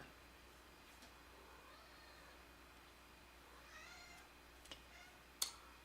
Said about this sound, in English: We're going to have some kitty cat songs in the background.